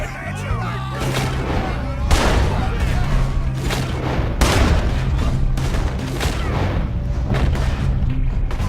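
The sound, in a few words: gunfire in video game Red Dead Redemption 2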